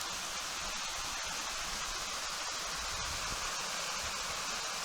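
Water of a mountain stream rushes steadily, a broad continuous wash of noise holding even throughout with no voices.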